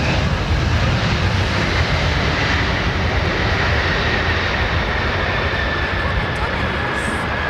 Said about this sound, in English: The Dreamliner, probably.